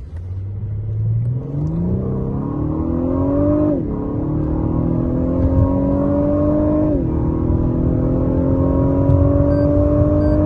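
A 2020 Lexus LS500 luxury sedan accelerates hard in an acceleration test, its engine note climbing steadily through two clear upshifts, loud and close with a continuous road rumble underneath.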